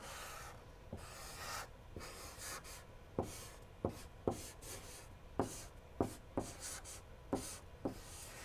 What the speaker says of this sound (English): Now, I'm going to write the word bathtub on the board for you.